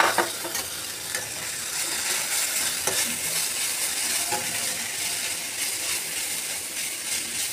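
Ridge gourd frying in a pan, an even hissing sizzle running throughout with a few faint scraping and ticking sounds close by.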